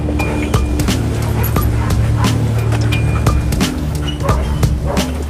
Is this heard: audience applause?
no